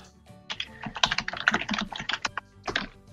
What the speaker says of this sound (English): It sounds like you're typing.